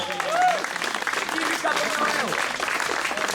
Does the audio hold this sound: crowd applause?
yes